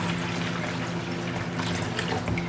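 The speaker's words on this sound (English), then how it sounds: "And then you just fill the water right in here, which is nice, and it actually has a maximum line so you know you're not adding too much water." Water pours steadily into the reservoir of an R.W.Flame countertop ice maker in a home kitchen, a soft, close, continuous splashing trickle with no talk.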